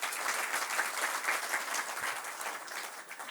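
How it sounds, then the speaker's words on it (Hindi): An audience at a youth gathering in New Delhi bursts into loud, sustained applause to welcome a guest. The clapping is dense and steady throughout. "माननीय अनंत कुमार जी हम सबके बीच में आए हैं, मैं उनका बहुत बहुत स्वागत करता हूं जोरदार तालियों के साथ"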